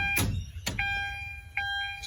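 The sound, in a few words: Mazda BT-50 key-in ignition reminder chime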